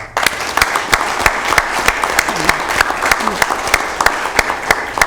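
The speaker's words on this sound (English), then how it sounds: "Can we give our award winners, our award recipients, we're using the word recipient now, a good round of applause." Audience applause at a county board of supervisors meeting honoring award recipients, steady clapping from a room of people with sharp individual claps standing out, sustained for several seconds.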